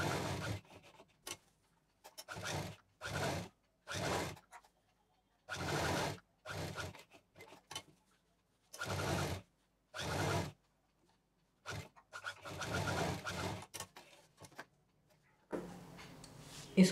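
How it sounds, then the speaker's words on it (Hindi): A double-needle sewing machine stitches fabric for a book or diary cover in short separate runs. Bursts of mechanical whirring lasting about a second each alternate with silent pauses, and a longer, choppier run comes near the end. "दूसरा हिस्सा इसके बिल्कुल बराबर रखते हुए डबल मशीन से लॉक करेंगे, पूरा सिल लाएंगे"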